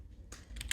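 Computer keyboard typing while entering code in a game-world scripting editor, with a few quick key clicks clustered near the end of a short, quiet stretch.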